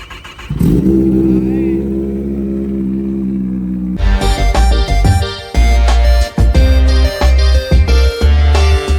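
A Kawasaki ZX10R sport motorcycle fires up and settles into a loud, steady idle, then after a few seconds erupts into aggressive repeated revving with sharp throttle blips and brief drops, very close and dominating the scene.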